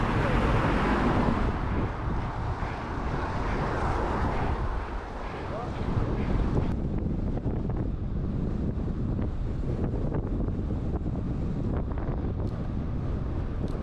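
Steady wind buffeting a microphone while cycling at pace into a cross headwind on a road ride in the Peak District, a continuous loud rushing roar that fills the whole clip without letup.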